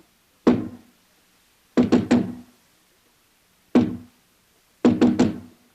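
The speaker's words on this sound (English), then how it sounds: "Who knocks?" Knocks on a very solid basement door in an old Sherlock Holmes radio drama: two groups of sharp, hollow raps, a single knock followed by a quick triple, repeated twice, close and loud against silence.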